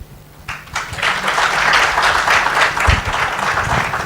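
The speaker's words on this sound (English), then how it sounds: "As we wrap up, a round of applause, please." Conference audience applauding panelists at the close of a stakeholder session: steady, dense clapping rises after a brief quiet opening and holds full and close for several seconds, with faint room murmur underneath.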